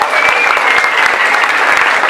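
An audience claps loudly for a biologist being introduced at a talk on life on other planets, a brisk, dense burst of applause with individual sharp claps standing out, close and steady throughout.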